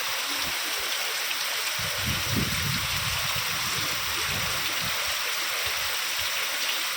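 Constant loud rush of fast-flowing river floodwater, a steady roar that continues without pause.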